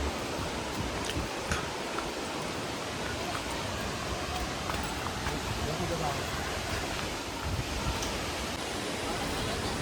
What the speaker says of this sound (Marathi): हाच आहे तो आपला रानपाटचा धबधबा.